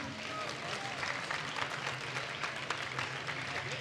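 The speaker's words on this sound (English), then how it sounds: "one big round of applause for the captains" Studio audience applauding the team captains at a celebrity League of Legends ARAM showdown, steady clapping throughout with a presenter's voice talking over it.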